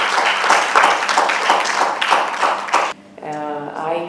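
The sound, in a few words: audience applause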